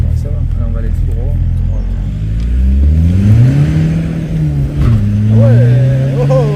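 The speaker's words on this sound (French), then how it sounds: "On entend bien le turbo" A stage 2 tuned VW Passat with over 300,000 km accelerates, the engine note climbing with a turbo whine rising over it. People talk over the sound from inside the car.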